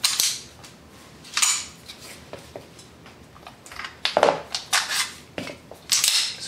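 Sig P226 and P229 DA/SA pistols are handled while being shown unloaded, with several sharp metallic clacks of the slides racking back and snapping forward, spaced irregularly and close, with no speech.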